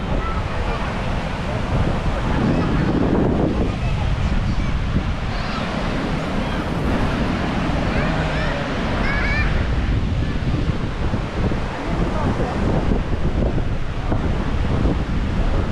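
Ocean waves breaking on the beach at Boracay, a continuous loud roar of surf mixed with wind buffeting the microphone, with distant voices faintly underneath.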